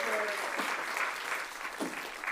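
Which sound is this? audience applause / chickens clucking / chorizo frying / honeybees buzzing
audience applause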